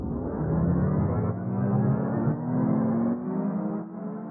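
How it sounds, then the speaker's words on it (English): Music under a tape speed-up ramp effect made in Logic Pro, with pitch gliding steadily upward as playback accelerates from slow to normal speed, sustained and fairly loud throughout. "Then right click on your fade and change it to a speed up ramp."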